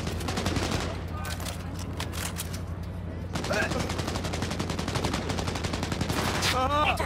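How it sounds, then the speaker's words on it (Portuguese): Bursts of gunfire from the video game Cyberpunk 2077, with rapid volleys over a constant low game soundscape and a short exclamation near the end. "Outro tiro, maluco!"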